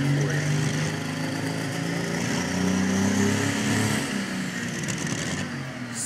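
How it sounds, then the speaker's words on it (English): A tractor engine roars at a county tractor and truck pull, a loud sustained drone whose pitch climbs and sags as it strains, heard from a moderate distance with crowd ambience. "Watch the tractor."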